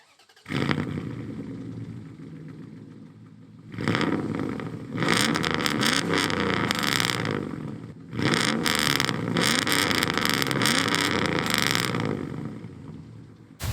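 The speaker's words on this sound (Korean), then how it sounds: "이 차량의 또 팔기통 심장 으르렁대는 배기음 한번 들어봐야겠죠?" Dodge Dakota pickup with a V8 engine, exhaust roaring through repeated revs: a sharp rise near the start, a steady idle-like growl, then two more sustained loud bursts, close and alone.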